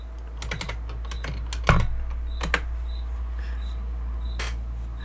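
Close typing on a computer keyboard during a live quadcopter build session, with irregular clusters of key clicks, one louder thump and sparse taps over a quiet steady hum.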